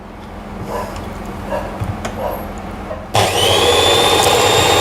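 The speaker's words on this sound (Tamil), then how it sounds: "மெஷின் போட்டு பிளெண்ட் பண்ண போகிறேன்." A hand blender mixing ice cream ingredients at home: quiet clinks and handling sounds first, then the motor starts abruptly and runs with a loud, steady whine right up close.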